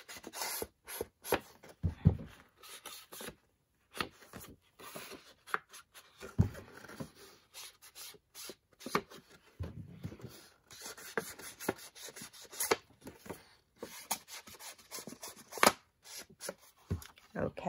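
An ink pad dabbed and rubbed along cut paper edges for a traveler's notebook journal, producing soft close scuffing, tapping and rustling in irregular bursts with quiet pauses.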